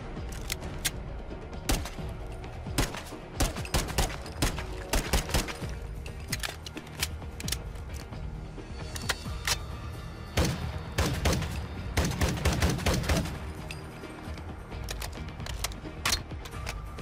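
Rapid bursts of gunfire from an SR-25 semi-automatic sniper rifle and a Glock in a modded Fallout 4 game, with dense volleys of sharp shots, brief pauses, then more clustered firing throughout.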